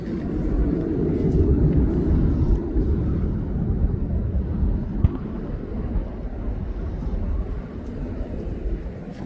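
Aircraft descending toward East Midlands Airport, a steady broad low rumble that holds at a fairly even level from start to finish, distant rather than close, with no voices.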